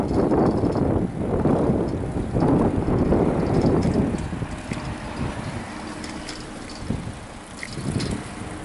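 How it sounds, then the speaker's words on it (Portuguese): Strong wind buffets a microphone outdoors while someone walks home, heavy rumbling gusts for the first four seconds, then easing to a lighter rushing noise with a brief swell near the end. "deve estar ventando, né?"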